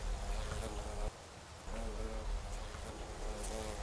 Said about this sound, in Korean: 동시에 다른 꽃잎에 있던 꿀벌도 날아간다.